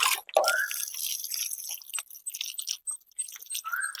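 Water is poured as a spray onto chili plants just after fertilizing, giving soft, irregular splashing and dripping with a light hiss, close and quiet, with no talk.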